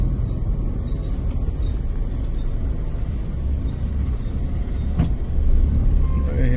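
Steady road traffic rumbles along a busy road during the Ganpati festival season, cars passing continuously with a louder vehicle swelling briefly near the end, no talk.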